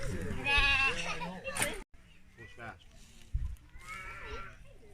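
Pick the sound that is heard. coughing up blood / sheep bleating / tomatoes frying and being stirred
sheep bleating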